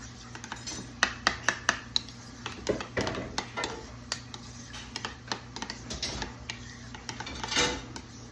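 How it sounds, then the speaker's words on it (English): A utensil whisks soy sauce and spicy sriracha together in a bowl, giving a quick run of light clinks and taps against the sides, steady at first, then sparser, with a low kitchen hum underneath. "And I'm just whisking this together, or stirring this together."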